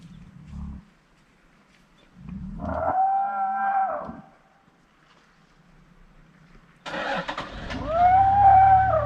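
An elephant grumbles from the bushes in Kruger National Park, with deep tonal rumbles and moaning calls in two separate bursts near a parked vehicle, with quiet gaps between them.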